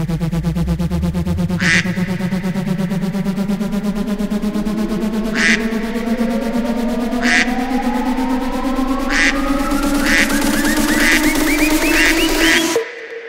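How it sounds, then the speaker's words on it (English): A techno track with a steady pulsing beat and a rising synth sweep carries a sampled duck quack that repeats at intervals, coming faster toward the end before the music cuts off. "As the bass drops, so does its unique quack"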